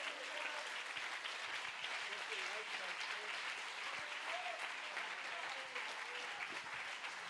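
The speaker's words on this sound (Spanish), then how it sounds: "denle un aplauso al Señor" Church congregation clapping in praise during a Spanish-language sermon on gratitude, a dense, sustained wash of many hands heard quietly from a distance with a voice faintly over it.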